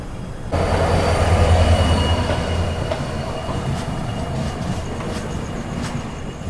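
Nagaland Express passenger train at a station, a loud, steady rumble of rolling carriages with continuous wheel squeal and faint rail clatter, close by and heard alone.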